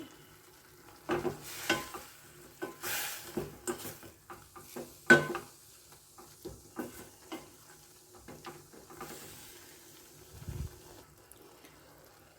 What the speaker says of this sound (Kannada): ಇದನ್ನು ಇವಾಗ ಚೆನ್ನಾಗಿ ಮಿಕ್ಸ್ ಮಾಡೋಣ